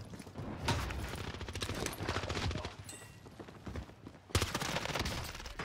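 Rapid automatic gunfire from an M16 crackles in Call of Duty on Rebirth Island, dense overlapping bursts throughout with a brief lull before a sharp renewed volley, fairly quiet in the mix.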